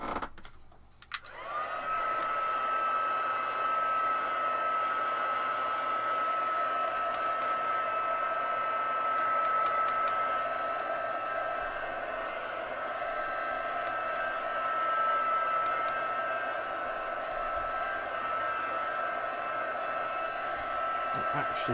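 A handheld dryer is switched on to dry a layer of craft paint, a steady loud whirring blow that runs continuously after a brief click at the start.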